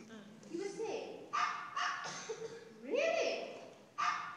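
An actor on stage in a high school production of Mary Poppins imitating a dog with a few yipping, whimpering barks over a roomy, faint stage ambience.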